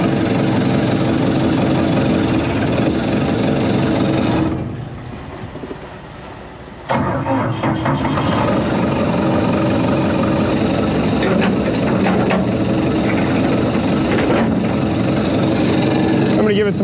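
The engine of a broken excavator runs steadily, with a heavy low idle rumble and some knocking. It dips quieter for a couple of seconds midway, then returns to a full, loud drone.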